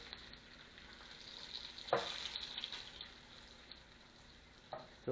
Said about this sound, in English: oh shit, pot stickers are burning